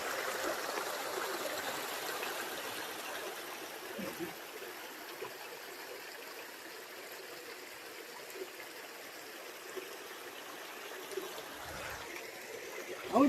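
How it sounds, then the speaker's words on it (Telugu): Vastapur waterfall in Telangana with water flowing and splashing over rocks, a steady soft rush heard from a middle distance, continuous throughout with a few faint sounds in the background. "ఇది వాస్తాపూర్ వాటర్ ఫాల్."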